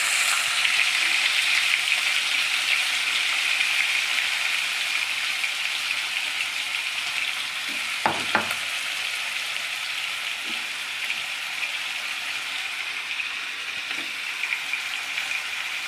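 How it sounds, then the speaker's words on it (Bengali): Marinated lemon chicken pieces fry in a pan with a constant, even hiss of hot oil close by, broken only by a couple of brief clicks partway through, and no voices. "এই যে আমি সুন্দর করে ফ্রাই করে নেব।"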